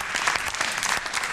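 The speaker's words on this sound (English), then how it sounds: "Executive producer Jeff is so excited by Goop and its private parts candles that he had to hit the applause button early" Canned applause from a studio applause button, a short steady burst of clapping at moderate loudness, alone without talk.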